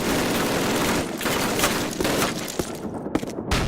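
Dense, continuous automatic gunfire from a Call of Duty battle, steady and loud throughout with sharper individual cracks and a few bursts standing out near the end.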